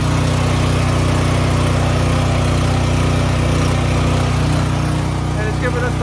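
Duromax portable generator running beside a solar panel setup, a loud, steady engine drone with a constant low hum throughout, while someone speaks over it.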